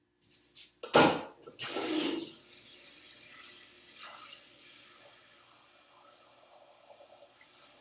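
Water rushes from a kitchen tap into a pot after a couple of knocks, starting loud, then settling into a steadier, softer stream as the pot fills.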